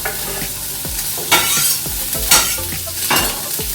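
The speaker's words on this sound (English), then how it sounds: "What we're going to do is add the ham, the onions" Ham and onions sizzling in a hot pan for mac and cheese, a loud close hiss with rhythmic clanks and scrapes of a utensil against the pan about twice a second, no talking.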